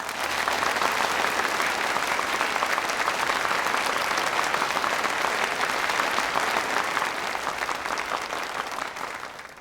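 Sustained, dense applause from a large audience gathered for a military exercise review, steady and loud throughout with no talking over it.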